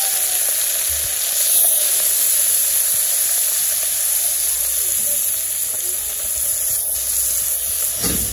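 Small fish frying in hot oil in a village kitchen, a steady loud bright sizzle and hiss that runs throughout, close up, with occasional soft pops and no talk.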